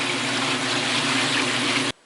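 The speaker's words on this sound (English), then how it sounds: "water is leaking out of the top of the siphon brake" A washing machine on spin cycle leaking water from a faulty siphon brake, heard as a steady, loud broadband rush of splashing and running water that stops abruptly near the end.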